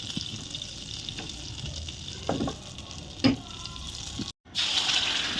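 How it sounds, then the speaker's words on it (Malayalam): Butter heating in a pan with cardamom, cinnamon, pepper and cloves for an Afghani chicken curry, a steady close sizzle with a few clinks of stirring and a brief cut near the end. "ബട്ടർ ഒന്ന് ചൂടായിട്ട് വരുമ്പോൾ നമ്മളതിലേക്ക് ഏലക്ക പട്ട പിന്നെ എന്താ കുരുമുളക് ഗ്രാമ്പു ഉണ്ടോ ഗ്രാമ്പും കൂടി ഇട്ടിട്ട് നമ്മളൊന്ന് ചൂടാക്കി വെക്കണം"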